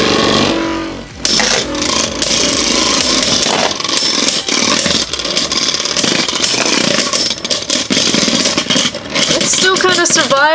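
Jet Wyvern and other Beyblade Burst Superking tops spin and clash in a stadium with a loud, continuous whirring grind and scattered sharp clicks, with talk over it.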